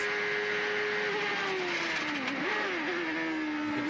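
A 1992 CART Indycar race car engine at Mid-Ohio roars at high revs down the long back straight near 175 mph, its loud steady whine dipping and climbing as the driver shifts and brakes, with no talk.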